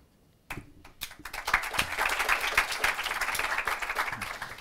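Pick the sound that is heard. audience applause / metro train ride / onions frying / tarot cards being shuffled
audience applause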